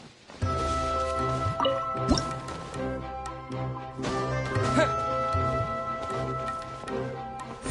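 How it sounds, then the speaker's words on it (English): Water droplets drip from a wall in the Genshin Impact video game, with several small plinks and splashes over steady, tonal game music. "Wow, another water droplet just came out from the wall!"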